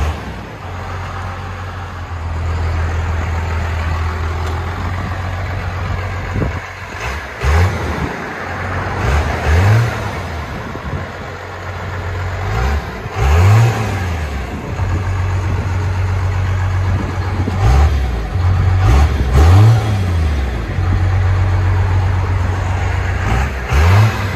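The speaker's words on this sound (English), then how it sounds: "MAGNAFLOW 30-inch muffler. That don't sound too bad." A Dodge Ram 5.9L Cummins turbo diesel engine idles with a deep rumble, then revs repeatedly in bursts through a throaty 30-inch Magnaflow muffler, close by and loud throughout.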